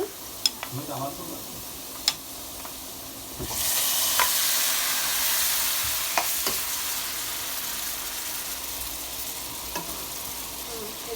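Spice paste (masala) stir-fries in a pan, a steady close sizzle that swells after a few seconds, with occasional sharp utensil taps against the pan.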